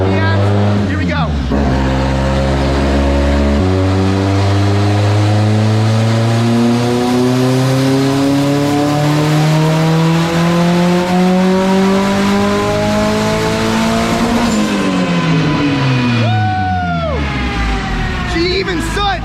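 Honda Civic engine on a dyno, revving hard up to 7,000 RPM and hitting the rev limiter: a loud, continuous engine note that climbs steadily in pitch, then drops away and settles near the end.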